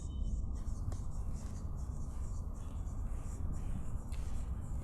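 Chalk or marker scratches across a classroom board while a sentence is written, faint scraping strokes over steady room hiss with no voice.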